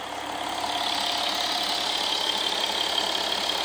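An Audi A6 3.0 TDI diesel engine idling steadily nearby, a constant rough mechanical drone with no change in pace and no voices.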